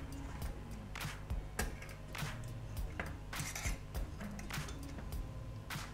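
Cooked fish is set onto a plate with a series of quiet clinks and scrapes of utensils against dishware, irregular and close, over a low background hum.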